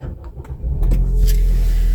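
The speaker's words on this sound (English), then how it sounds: "the first thing I like doing is to put on the engine" A car engine turns over and catches, settling into a low, steady idle rumble close by.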